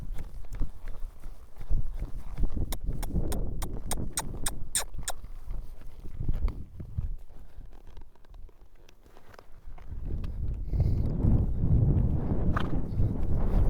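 A horse lopes around the corners of a riding arena, its hooves striking in a steady, rhythmic clip-clop at moderate distance. The pace stays even through most of the passage and grows slightly heavier near the end.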